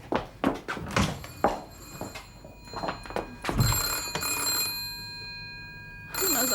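An old landline telephone bell rings in bursts indoors in a quiet room, with a few dull thunks and door-like knocks around it and no talking.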